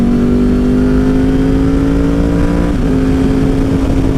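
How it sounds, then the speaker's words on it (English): A motorcycle accelerating hard and close by with a steady loud engine drone whose pitch climbs, briefly dips at a clutchless upshift, then keeps rising. "And that was a clutchless shift."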